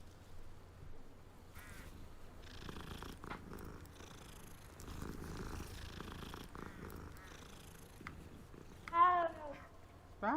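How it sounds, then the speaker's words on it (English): In Hogwarts Legacy, a cat purrs softly and steadily while being petted, a low rumbling purr lasting several seconds, with a brief higher squeaky call near the end. "Oh, another cat. Let's rub it."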